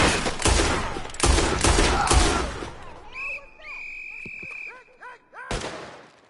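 Gunfire in a Red Dead Redemption 2 shootout: several loud, close shots in quick succession, then a lull of ringing tones and scattered clicks before one more sharp shot near the end.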